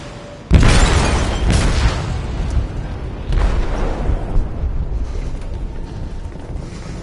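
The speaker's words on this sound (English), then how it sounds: "They detonated an explosive in the hold" Explosion in a ship's hold in Detroit: Become Human, a sudden loud deep blast followed by a long roaring rumble, with a second swell of rumbling a few seconds later before fading.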